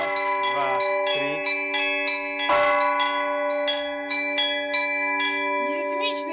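Church bells of the Church of the Intercession of the Holy Mother of God in Chizh, Belarus, ring in a lively sequence of clanging strikes, with resonant tones sustaining and overlapping throughout.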